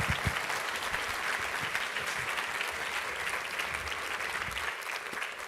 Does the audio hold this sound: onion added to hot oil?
no